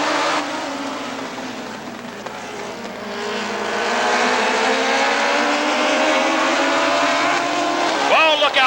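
Race cars roaring at speed on the Rockford Speedway oval, a loud sustained engine drone that swells as the field passes, with a trackside announcer talking over it.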